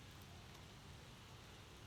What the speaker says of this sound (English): definitely starting to rain.